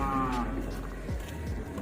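Murrah buffalo calves at a livestock market give a few low, drawn-out moos, one early and clear with another short call later, over a steady background murmur of the crowded market.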